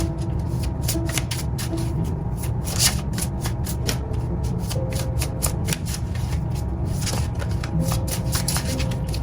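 Tarot cards being handled and shuffled close up, a continuous dense run of crisp card flicks and riffles over a steady low background hum.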